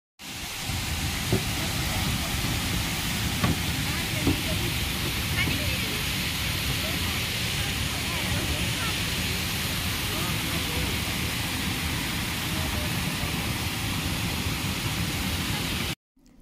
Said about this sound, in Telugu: ఆ వాటర్ సౌండ్, ఈ నేచర్ అంతా, ఈ సౌండ్స్ అన్నీ వింటూ ఉంటే మనకి ఎంత ప్లెజెంట్గా ఉంటుందో కదా.